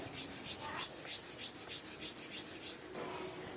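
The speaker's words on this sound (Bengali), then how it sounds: "আমার কাছে চন্দন পাউডার নেই বলে আমি চন্দন ঘষে নিচ্ছি চন্দন কাঠ দিয়ে" A sandalwood stick is rubbed on a stone to make paste, a close, soft scraping that repeats in a steady back-and-forth rhythm of about a dozen strokes, alone without talk.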